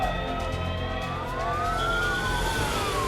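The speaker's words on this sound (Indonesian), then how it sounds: "Ambulan Rumah Sakit Khusus Daerah Kota Ambon telah sampai di Terminal BBM Wayame." An ambulance siren from a regional special hospital in Ambon sounds as it arrives at the Wayame fuel terminal, its pitch sweeping steadily and clearly close by over a constant vehicle rumble, with no talk.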